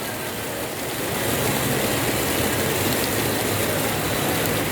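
Heavy rain pours down steadily and loudly, a dense broadband hiss that swells after the first second and holds without a break, with no voices over it.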